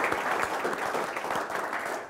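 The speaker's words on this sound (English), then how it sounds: "Can we give the businessmen a round of applause, please" A crowd applauds business leaders steadily, a dense wash of clapping at an even level throughout, with no voices standing out.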